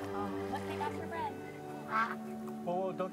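Ducks in the video game That Dragon, Cancer quack several times in short nasal calls over soft background music, with a couple of clearer calls near the end.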